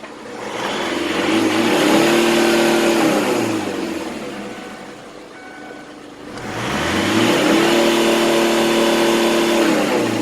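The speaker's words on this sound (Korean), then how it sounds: "RPM을 한번 방방 걸려보세요" The engine of a 17-year-old Kia Carnival revs twice, climbing and holding a rising whine before easing off, then surging again, loud and close with no talk.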